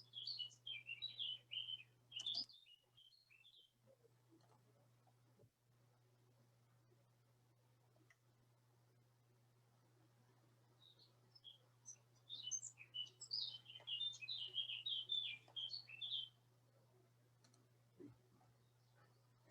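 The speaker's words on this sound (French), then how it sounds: "on entend les petits oiseaux derrière" Small birds chirp and twitter in the countryside, bursts of bright song clustering early and again midway, fairly close but soft over a steady low hum.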